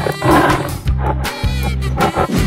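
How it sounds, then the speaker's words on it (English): A cartoon lion roars loudly and close, a rough, sustained growl with rising and falling swells that repeat over a couple of seconds, with no talk over it. "Lion."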